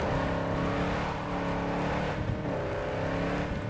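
A Rayfield hypercar engine roars steadily in Cyberpunk 2077, a loud, close, continuous high-revving drone with layered harmonic tones and slight pitch shifts, no voices.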